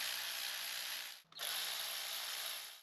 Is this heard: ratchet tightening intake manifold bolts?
yes